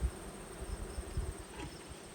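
A sample of honey bees from a commercial beekeeping yard hums in a steady, faint, continuous drone. No voices are heard.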